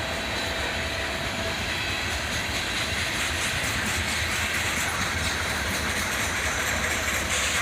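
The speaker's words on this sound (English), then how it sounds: "we'd catch this southbound coal train" A southbound coal train rolls past on a snowy day, producing a loud, continuous rumble of heavy wagons with steady rail noise throughout and no letup.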